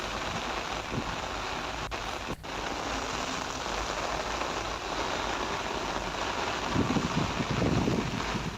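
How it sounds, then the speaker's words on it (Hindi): Heavy, continuous rain falls in Sirohi district, Rajasthan, a dense steady hiss with a brief sharp knock and some low gusty rumbles near the end. "सिरोही जिले में लगातार 12 घंटों से बारिश हो रही है"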